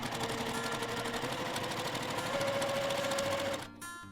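A sewing machine stitches quilt seams in a fast, steady whir of needle strokes that runs close and continuous for several seconds, then stops abruptly near the end.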